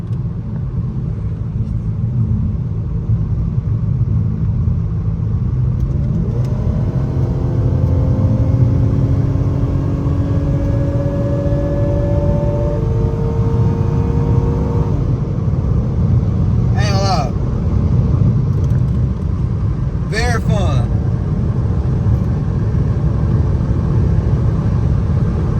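A Dodge Challenger SXT drives on the road, its engine a steady, loud low rumble with rising and falling tones as it accelerates, alongside continuous road and cabin noise.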